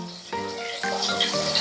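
Ingredients for an egg and silver fish curry frying in hot oil, a steady close sizzle with a few louder pops and crackles across a short stretch.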